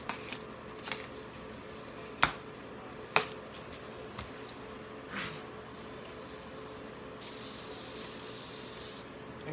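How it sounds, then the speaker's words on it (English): Short taps and clicks come first, then a sustained hissing spray of paint bursts out for a couple of seconds, close to the microphone. "just spraying in different directions, different patterns"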